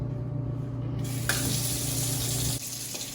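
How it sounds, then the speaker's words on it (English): A tap runs steadily into a sink for hand washing with soap, a close, full rush of water that changes tone midway and then continues more quietly. "Now we're going to wash our hands with soap and water."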